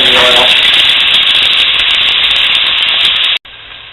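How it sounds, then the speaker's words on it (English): Onions and garlic frying in a generous amount of olive oil give a loud, steady, close sizzle that cuts off abruptly just before the end. "Onions and garlic in the oil."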